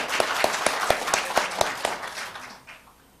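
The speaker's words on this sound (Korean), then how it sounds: "큰 박수 부탁합니다" Applause greeting a guest at a Korean political debate forum: fairly sparse, rhythmic clapping with distinct, evenly spaced claps over a light patter, tapering off and dying away after a few seconds.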